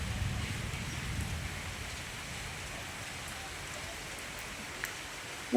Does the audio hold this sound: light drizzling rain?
yes